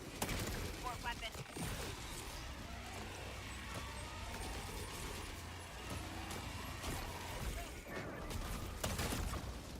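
Automated sentry gun in the Helldivers 2 video game firing continuously, a dense rattling barrage of gunfire mixed with mechanical clatter and game noise, loud and sustained throughout with a voice speaking over it.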